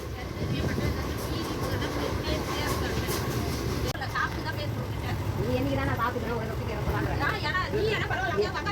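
Steady rumble and rattle inside a moving passenger train bound for Tirupati, with a continuous hum of wheels and carriage noise under nearby chatter and vendors' voices throughout.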